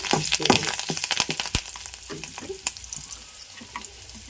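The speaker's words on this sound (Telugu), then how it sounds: "అన్నీ వేసేసి తాలింపు పెట్టేసాం కదా" Curry leaves and turmeric crackle and sizzle in hot oil as a tempering for ridge gourd coconut chutney, close and busy with sharp pops and stirring, no talking.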